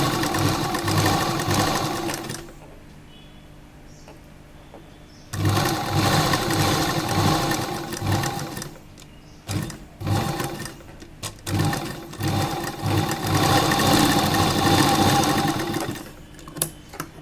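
Sewing machine stitching an A-line kurta with canvas lining, with loud, close, steady mechanical whirring in several long runs separated by pauses and short stop-start bursts.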